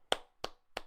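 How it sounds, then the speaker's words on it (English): Three single hand claps sound in an even, slow rhythm, sharp but faint, with silence between them and no talking. "Round of applause"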